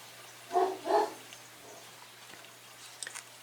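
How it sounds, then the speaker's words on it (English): A dog gives two short barks in quick succession, moderately near, followed by quiet room tone and a faint distant yip or two. "I think she pretty much barks at him every day."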